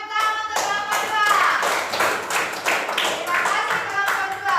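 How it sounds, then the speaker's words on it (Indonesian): A class applauds a student group, beginning with a single sharp clap, then settling into a rhythmic, close burst of many hands clapping together with a faint voice mixed in. "tepuk tangan untuk kelompok 2"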